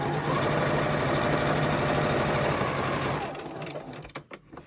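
A sewing machine runs steadily while stitching a quilt block from a charm pack star pattern, giving a close, even mechanical whir that stops after about three seconds, followed by a few soft handling clicks.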